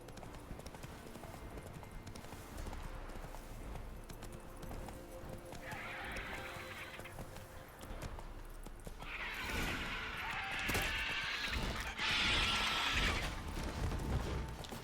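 Roach, a horse in the video game Witcher 3, gallops with steady clip-clopping hoofbeats under game ambience, breaking into loud whinnying neighs partway through and again near the end.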